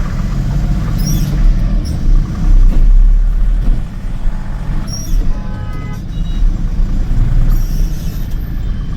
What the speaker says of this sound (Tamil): டிராஃபிக் செம டிராஃபிக்ங்க